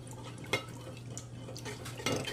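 A spoon scrapes and knocks faintly against a pot on a gas flame as appam batter cooks and is stirred thick, with occasional clinks over a low steady hum.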